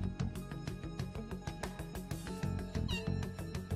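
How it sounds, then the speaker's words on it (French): A cat meows repeatedly over rhythmic music from a Persona 5 game session, the cries clear and close against the steady beat. "Ouais, voyez le chat. Vous l'avez peut-être entendu"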